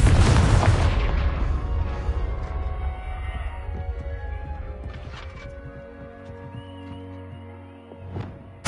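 A Confringo spell explosion in the video game Hogwarts Legacy bursts loud and close with a deep booming blast, then rumbles and fades over several seconds under lingering game ambience, ending with a small sharp pop.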